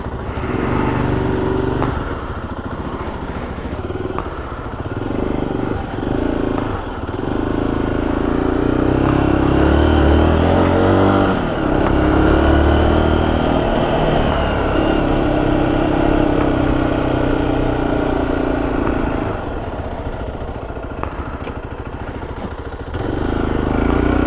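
A Zontes 310X motorcycle pulls away and rides on, its engine rising and falling through gear changes for over twenty seconds, a steady close drone with wind and road noise, heard from on board.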